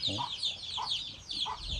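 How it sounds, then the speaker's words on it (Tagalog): Farm fowl, geese and ducks, call in a repeated series of faint, nasal squawks and clucks at a steady rhythm, heard from a short distance. "Mayroong gansa sa baba oh. Mga pato, dami oh."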